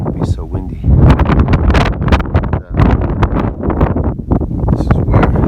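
Gusty wind buffets the microphone on an open mountain trail along the Appalachian Trail in the White Mountains, a loud, close and uneven roar that rises and falls in surges.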